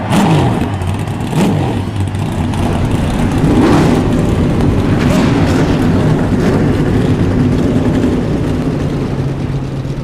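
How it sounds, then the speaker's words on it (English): Stock cars in the iRacing eNASCAR Coca-Cola Series at Richmond Raceway fire up and rev together, a loud, dense and continuous roar of many engines with rising and falling pitch sweeps throughout. "Drivers, start your engines."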